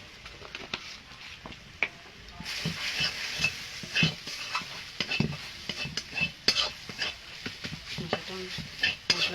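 Ground coriander, cumin and chili powder sauté in a pan with a soft sizzle under frequent spoon scrapes and stirring clinks, close and fairly quiet.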